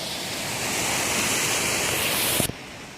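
A steady, broad rush of water flowing over a small dam fills the air, loud and continuous, then cuts off abruptly near the end.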